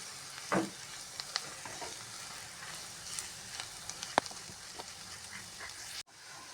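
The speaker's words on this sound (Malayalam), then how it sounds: "ഇനി ഇതെല്ലാം കൂടി നന്നായിട്ട് മിക്സ് ചെയ്യാം" A spice mixture with coriander powder stirred as it fries in a pan, a steady close sizzle with occasional spoon scrapes and a louder clack early on, ending abruptly.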